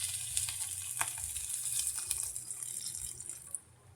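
Eggs and tomato sizzle and crackle steadily in a frying pan after a little water is added, a close, continuous hiss with small pops that fades near the end.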